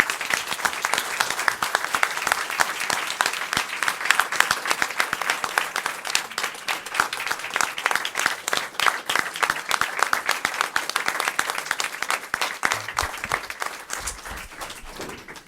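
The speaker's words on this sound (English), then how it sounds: "Please join me, all of the folks in the audience, as we applaud these local leaders" Audience at a school district board meeting applauding local leaders, with sustained, fairly close clapping from a moderate crowd that thins out near the end.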